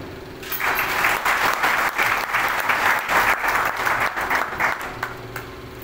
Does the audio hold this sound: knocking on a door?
no